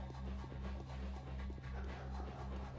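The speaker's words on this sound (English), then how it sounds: "Razor dogs getting stabbed in the street?" Dogs pant in Pathologic, a street scene in a plague-stricken town, with quick rhythmic breaths and soft whimpers over a low steady drone, faint and close.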